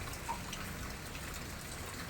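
Rain falls steadily outdoors, a faint, even patter of drops spread through the whole moment with no voices.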